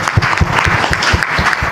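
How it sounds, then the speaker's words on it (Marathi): Applause from a live audience for a performer on stage, steady dense clapping throughout at close range with no talk over it. "अरुणजींसाठी एकदा जोरदार टाळ्या व्हायला पाहिजे."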